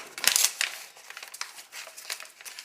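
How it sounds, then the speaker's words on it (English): A packaged MRE fruitcake with a January 2018 best-before date being opened, giving a burst of crinkling and tearing wrapper at the start, then softer intermittent rustling and crackling close by, with no talk. "I'm going to open this fruitcake."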